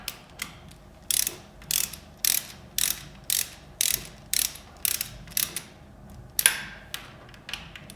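A hand ratchet tightens bolts on a KTM 300 cylinder kit, giving repeated bursts of sharp clicking strokes in a steady rhythm, close up and clear, with no talking.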